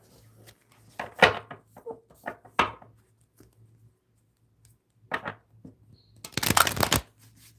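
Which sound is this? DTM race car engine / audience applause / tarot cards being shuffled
tarot cards being shuffled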